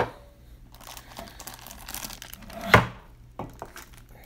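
A cardboard box being shifted and handled up close, with rustling, scraping and crinkling building to one sharp thunk, followed by a softer knock, in an otherwise quiet room.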